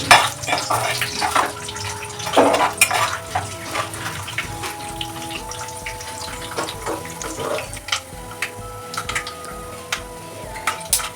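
Cumin and spices frying in hot oil for lemon chitranna, a steady close sizzle and crackle with occasional stirring clinks, no talk over it.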